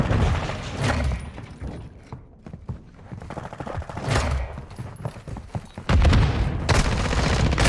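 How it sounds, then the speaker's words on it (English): Gunfire, impacts and clattering action sounds from the Call of Duty Modern Warfare II video game, busy and close, with a loud burst near the start and another near the end as a stun grenade is thrown. "Throwing a stun grenade."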